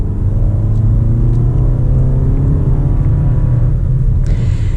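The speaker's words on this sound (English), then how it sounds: "Now, we are going to get a little acceleration with the RAV4 TRD." A 2020 Toyota RAV4 TRD accelerates with a steady, heavy low rumble and a rising engine tone, loud and continuous from the cabin, with no talking.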